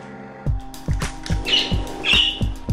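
A budgie gives a couple of harsh, close squawks over a rhythmic low thumping background, the bird calls brief and sharp within a few seconds.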